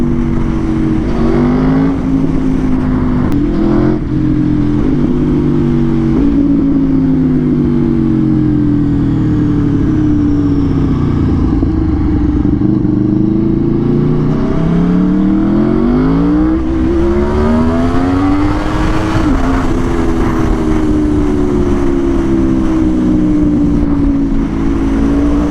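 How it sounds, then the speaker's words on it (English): Loud, continuous exhaust note of an Aprilia RSV4 1000cc sport motorcycle on a street ride, rising and falling as the engine revs and the bike accelerates, with no talking throughout. "Man, the exhaust sounds so good."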